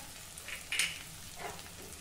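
Tamarind pulp sautéing with red chilli powder and garam masala in a pan, a soft steady sizzle with a couple of brief stirring scrapes, close and fairly quiet, no talking.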